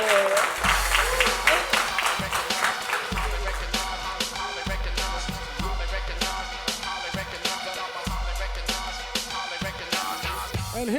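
An audience applauds a performer with steady, moderately loud clapping throughout, punctuated by rhythmic thumps from background music.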